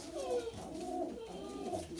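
Pigeons or doves coo in soft, repeated low calls nearby, a steady murmuring flock heard alone.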